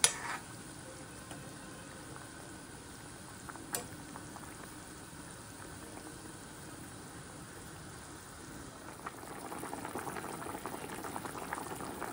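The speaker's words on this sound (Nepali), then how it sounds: "यो ग्रेभी मजाले उम्लेपछि चाहिँ यसमा माछा हालेर मजाले उमाल्ने।" Continuous bubbling of thick fish curry gravy simmering in a pot, low and steady, with occasional pops and a slightly livelier burble toward the end; no talking.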